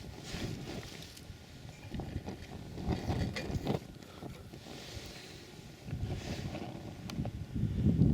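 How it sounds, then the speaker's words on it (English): Gusty wind buffets the microphone on an open hillside at Ennerdale in the Lake District during a wild camp, rising and falling in loud rushing waves with no voices. "Every time you think that wind's dropping, it picks up."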